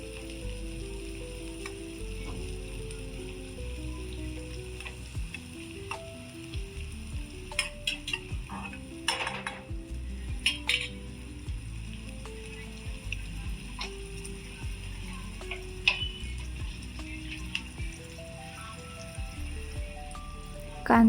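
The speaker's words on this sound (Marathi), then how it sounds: "कांदा मस्त लाल परतेपर्यंत आपण त्याला हलवून घेणार आहोत. तेलामध्ये कांदा असा लाल खरपूस होऊ द्यायचा." Chopped onion sizzles and fries steadily in hot oil for poha, with a constant loud crackle and scattered scraping clicks of a spatula stirring the pan throughout.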